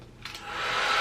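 A Feekaa kids hair dryer whirs up to speed, a rising airy blowing hiss that grows louder over about a second, close and alone.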